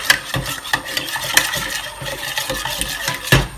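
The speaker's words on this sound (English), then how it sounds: "You basically have to constantly stir scrambled egg." Scrambled egg stirred constantly in a pan, a steady run of scraping and clinking utensil strokes against the metal, close and fairly loud with faint frying underneath.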